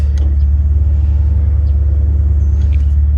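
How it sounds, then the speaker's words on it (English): Jeep winching itself out of sand during a self-recovery: a steady, loud low rumble of the idling engine and winch motor runs throughout, with no voices. "Winch is tightening up."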